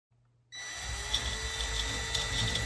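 A power drill starts up abruptly and runs with a steady, high-pitched whine as it bores through ceramic, close and loud, with no talking.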